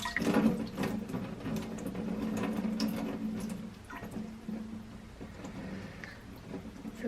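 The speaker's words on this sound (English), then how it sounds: "now you can go ahead and dunk it into your warm water, or just rinse it under the tap" Running warm tap water splashes and trickles as wool is rinsed beneath it, with shifting gurgles and drips, moderately close.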